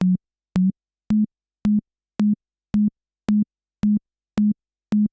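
Access Virus synthesizer oscillator pitched around 200 Hz, played as ten short, evenly spaced beeps with sharp clicks at each onset, loud and isolated against silence.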